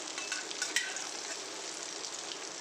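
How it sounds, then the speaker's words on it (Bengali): Dhoka lentil cakes fry in hot oil in a wok over a medium flame, giving a steady, loud, close sizzle that hisses on without a break. "বাকিগুলোকেও এইভাবেই ভেজে নেব এটা কিন্তু মিডিয়াম ফ্লেমেই ভাজবেন"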